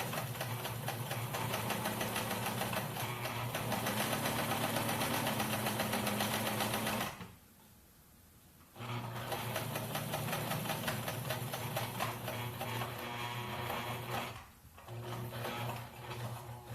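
A sewing machine stitches elastic onto a fabric face mask in steady, close mechanical runs with no voices. The whir stops for about two seconds partway through, restarts, and briefly dips again near the end.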